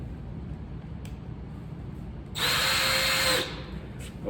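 A power drill drives a screw into an electrical box in one loud, whining burst of about a second, set against quiet room noise.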